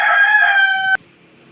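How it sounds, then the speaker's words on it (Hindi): A rooster crows once, close and loud, a long sustained bright call that cuts off abruptly, leaving quiet room tone afterward, with no talking. "ये मुर्गा मुझे बोलने ही नहीं दे रहा।"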